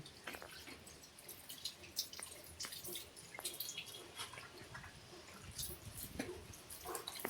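Water trickles and splashes with scattered drips and small bursts, close by and fairly quiet, as if from a running tap.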